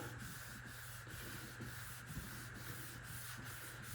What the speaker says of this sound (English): You just rub that stuff on there.